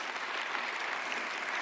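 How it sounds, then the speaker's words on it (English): A church congregation applauds, a dense steady clapping from a large crowd that fills the whole short moment without pause. "I think that deserves a good round of applause."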